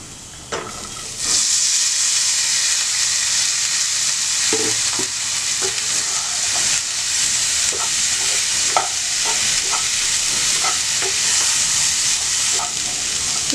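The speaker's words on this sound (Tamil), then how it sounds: "இப்போ நம்ம காலிஃப்ளவர் போட்டு கலக்கிடலாம்." Cauliflower drops into a hot frying pan and is stirred, a loud sudden sizzle settling into a steady hiss with scraping and clinking from the stirring.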